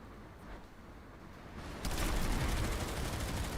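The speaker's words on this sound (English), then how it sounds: "I'm shooting the tank right now." Gunfire aimed at a tank in the online shooter PlanetSide 2, a dense rattling barrage that swells suddenly halfway through into a loud, sustained roar of overlapping shots and battle noise.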